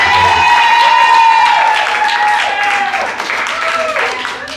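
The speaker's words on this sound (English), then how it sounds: "please give a round of applause for the wonderful host for this game" A crowd claps for the host of a comedy game night, a loud burst that slowly eases off, with voices running over it.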